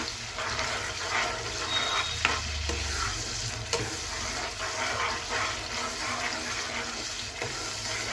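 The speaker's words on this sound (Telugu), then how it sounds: "కర్రీ ఒకసారి కలుపుదాం" A mixed vegetable curry is stirred in a pan over a soft continuous sizzle, with occasional scraping and clinking of the spoon against the pan, close and fairly quiet, without speech.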